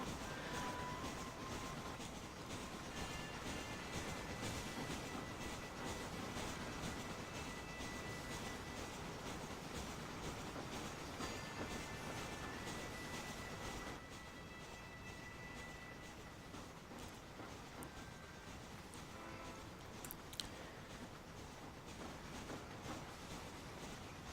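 A train in Red Dead Redemption rolls along the rails with a steady, quiet rumble and rhythmic rattle that runs unbroken throughout, with no talking over it.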